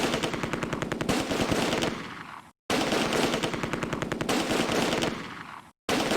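.30 cal machine gun fire in the game Close Combat, long sustained bursts of rapid rattling shots, loud and dense, each stopping abruptly with a brief silence before the next.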